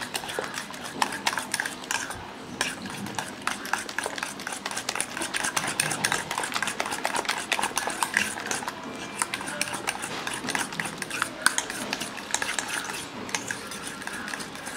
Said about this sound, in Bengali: এখন আমি ডিমটাকে ভালো করে পেঁয়াজের সাথে মিশাবো।